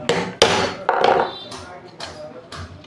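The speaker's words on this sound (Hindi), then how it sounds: "इस साइड हथौड़ी लगानी है इस तरीके से" A hammer strikes a sewing machine motor armature, several sharp close metallic knocks spaced about half a second apart, with someone speaking between the blows.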